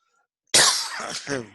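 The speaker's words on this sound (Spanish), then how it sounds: "Perdón por la tos." A single close, harsh cough bursts out of silence, followed by a rougher throat-clearing rasp, all within about a second.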